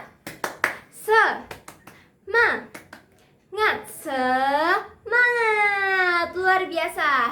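A group of children chant in rhythm with bursts of hand clapping before a storytelling session, voices rising in sing-song calls between claps, close and fairly loud.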